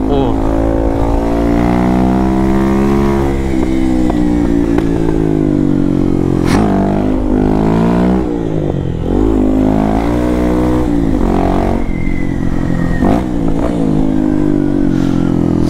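A motorcycle fitted with a Dore exhaust run without its filter drones loudly and continuously, its engine note rising and falling with throttle changes, while someone talks over it.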